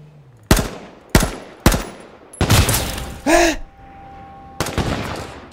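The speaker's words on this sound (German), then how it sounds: "Obwohl, er wird jetzt auch beschossen, der Scharfschütze." Gunfire in the game H1Z1, a series of sharp, loud shots spaced roughly half a second apart, followed by a burst of rapid fire and a few more cracks later, with brief voices in between.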